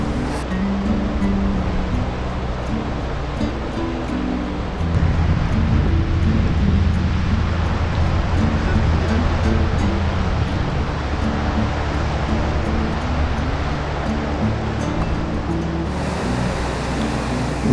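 Mountain water rushes down over rocks at Zojila Pass, a steady broadband roar of flowing stream that fills the whole stretch, loud and continuous with some wind buffeting the microphone.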